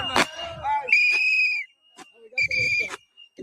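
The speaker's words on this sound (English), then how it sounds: "We got more whistles. More whistles." Protesters blow shrill whistles on a neighborhood street, two long piercing blasts separated by a pause, loud and close, with shouting voices around them.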